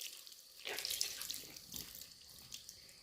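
A tap runs while a blue stamp-cleaning chamois is rinsed and worked with hand soap in the stream. Water gushes up close in uneven surges, then settles to a quieter flow.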